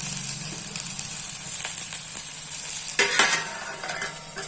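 Thalipeeth made with radish roasts on a hot pan, giving a steady close sizzle and crackle with brief scraping stir sounds partway through.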